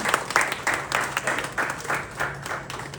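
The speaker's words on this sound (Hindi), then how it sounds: "जोरदार तालियां प्लीज" An audience at a stage event applauds loudly and close by, the many hands falling into a rhythmic, pulsing beat of claps.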